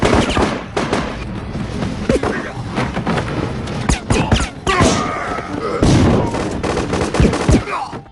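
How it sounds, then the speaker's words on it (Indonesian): Dense, sustained gunfire from an action-film shootout, rapid bursts and heavy shots piling up continuously for several seconds with booms and impacts, loud and close, mixed with possible shouting. "Lalu dengan cepat ia pun mengerahkan semua anak buahnya untuk melakukan perlawanan dan terjadilah aksi tembak-tembakan."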